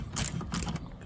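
A socket wrench ratchets while removing Torx screws from a car speaker, a close, rough clicking grind in two short bursts over a low rumble.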